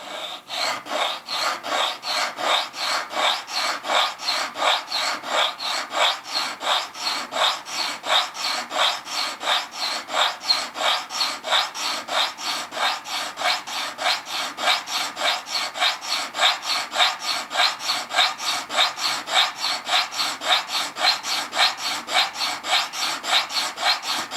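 Steady rhythmic rasping as a choil sharpening notch is ground into a Spyderco Sharpmaker rod, fast even back-and-forth strokes repeating for the whole stretch, close and consistent, with no talking.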